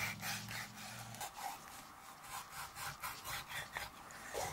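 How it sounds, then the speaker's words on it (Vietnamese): A knife scores and slices through raw squid on a cutting board, giving faint, repeated rubbing strokes in a steady rhythm after a brief low hum, close and quiet with no speech. "Bây giờ mình sẽ cắt mực ra."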